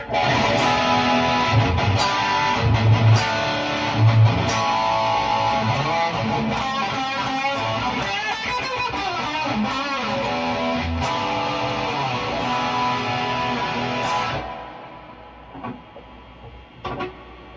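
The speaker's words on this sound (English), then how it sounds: "We're gonna go ahead and engage just the reverb on that versatile setting" An electric guitar through an amp's reverb effect plays chords and single notes with a soft reverb shimmer, then stops and a short ringing tail fades out.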